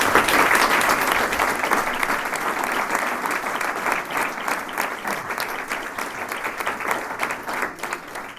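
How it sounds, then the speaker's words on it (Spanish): Applause from an audience at an open talk on the DANA flood in a culture house in Albal, a steady, dense, sustained clapping that stays loud throughout and thins slightly toward the end. "a tota aquesta gent vos demano un aplaudiment per a ells"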